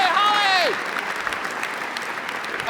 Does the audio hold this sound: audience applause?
yes